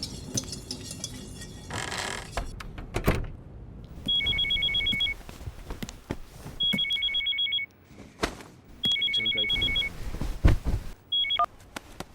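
A telephone rings in repeated electronic trill bursts, four rings spaced evenly and fairly clear above a quiet room with scattered clatter and no talk.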